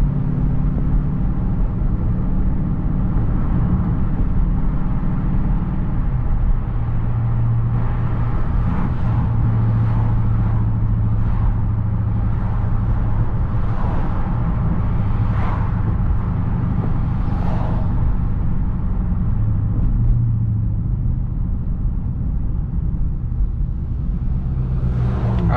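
A Dodge Hellcat driving in sport mode gives a loud, steady low engine rumble and road roar, with a few swells of revving and passing-traffic noise along a road with a big truck ahead.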